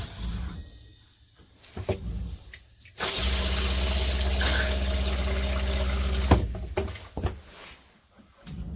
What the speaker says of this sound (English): You can see the antifreeze coming off the faucet.